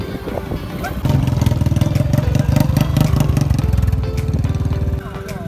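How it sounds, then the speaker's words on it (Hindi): A motorcycle engine rumbles nearby on a crowded, traffic-jammed road during a Maha Shivratri trip, rising to a loud, steady throbbing as it revs for several seconds before easing back, with voices talking over it. "आगे जा रहे हैं मोटरसाइकिल"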